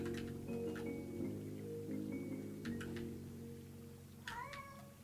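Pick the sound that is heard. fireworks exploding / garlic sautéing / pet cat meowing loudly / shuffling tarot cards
pet cat meowing loudly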